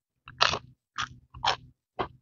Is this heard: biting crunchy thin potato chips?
yes